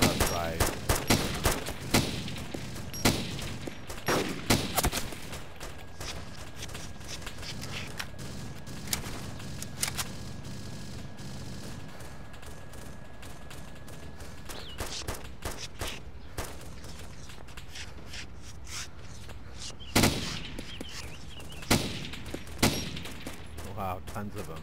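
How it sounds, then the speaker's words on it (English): Gunfire in a realistic war video game for PC, bursts of rapid shots and single cracks scattered across the scene, some loud and near, others distant, with voices talking in between. "There's open fire on that left side."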